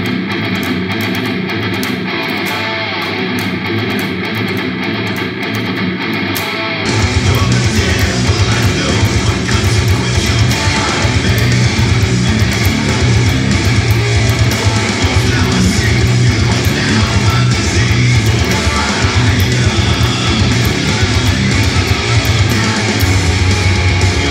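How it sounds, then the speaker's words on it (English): Heavy distorted rhythm guitar doubled a low octave down, run through a Line6 Helix preset for a song. It starts thinner, then becomes a loud, dense, sustained wall of sound with no talking. "The next sound we have is the rhythm guitar with a low octave on it"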